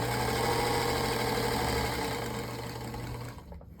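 A sewing machine stitches a quilted basket lining, running in a steady close mechanical whir that winds down and stops near the end, with no talking.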